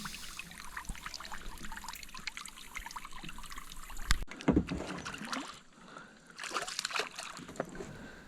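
Paddle strokes of a canoe on a river while fishing for smallmouth, soft irregular splashes and dribbling water close by, with a couple of louder splashes midway against a quiet outdoor background.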